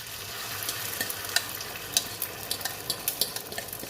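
A Spanish tortilla mixture of egg, potato and onion fries in hot oil, sizzling steadily up close with scattered sharp crackles and pops.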